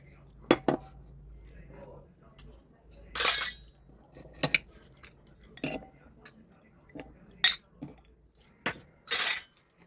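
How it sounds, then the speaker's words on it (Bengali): Metal ritual bowls are lifted down and set in place, giving a series of sharp clinks and ringing clatters at irregular intervals, close and distinct against a quiet room. "ভগবানকে শোয়াবো, তাই জন্য বাটাগুলো নামিয়ে নিচ্ছি।"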